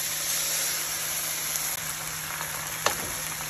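Three seasoned eggs, salted and peppered, sizzle and fry steadily in a hot, slightly tilted pan with onions, a constant loud crackle with a faint clink near the end.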